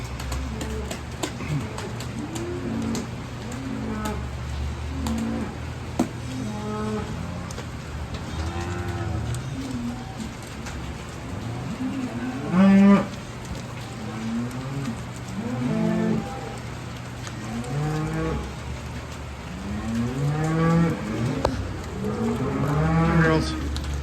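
Dairy cows in a barn low and moo repeatedly, some calls near and loud, others farther off, over a steady mechanical hum and light patter.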